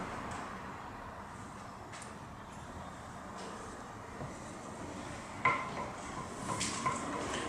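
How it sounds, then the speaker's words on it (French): Maple syrup and liquid cream stirred together in a pot for pudding chômeur, heard as a soft, steady swishing with faint utensil clinks and one sharper knock against the pan. "nous allons mélanger ce sirop d'érable avec de la crème liquide"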